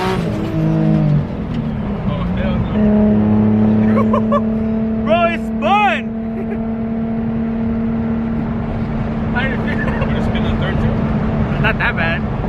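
A 600 hp turbocharged Nissan 350Z at full throttle, the engine note climbing in long sustained pitch sweeps with a brief sharp squeal midway, while people talk over the steady car noise.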